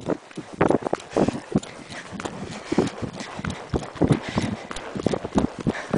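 A horse trots along a path, its hooves beating a quick, steady clip-clop that stays close and loud throughout, with a little rustle and movement underneath.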